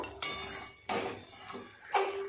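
A spoon scrapes and stirs chicken curry in a cooking pot, making three separate close scraping strokes with soft metallic clinks against the pot and brief pauses between them.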